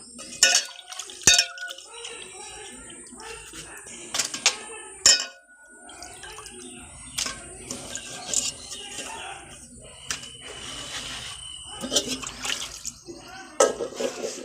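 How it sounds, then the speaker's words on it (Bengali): Rita fish being rinsed in cold water in a kitchen sink, with splashing, trickling water and occasional clinks of the fish and utensils against a bowl, under someone talking. "এই রিঠা মাছটা আমি প্রথমে ঠান্ডা জল দিয়ে ভালো করে ধুয়ে নেব"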